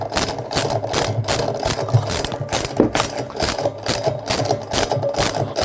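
A 13 mm socket wrench undoes the bolt holding the pulley wheel onto the spindle of a washing machine with seized drum bearings, giving a close, steady run of rapid metallic ratcheting clicks with no talk.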